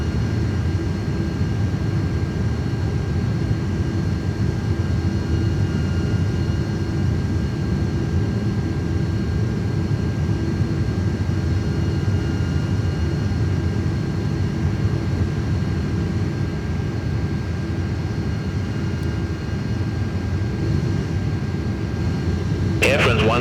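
An Airbus airliner takes off in Microsoft Flight Simulator 2024 at Paris Charles de Gaulle. A steady, loud low jet engine roar runs throughout with little change, and a brief click comes near the end.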